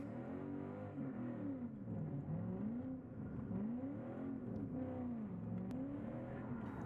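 A Lexus drift car's engine revving repeatedly while it spins on a test drive, the pitch swelling and falling in steady waves, a continuous moderately loud drone with no talk.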